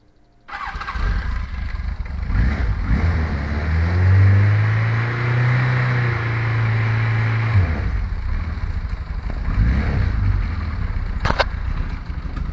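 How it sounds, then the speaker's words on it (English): A cold-blooded motorcycle started cold on choke catches after a short crank and settles into a loud, steady close idle, its pitch rising briefly then dropping back as it keeps running alone. "I'm going to give this guy some choke and crank her up."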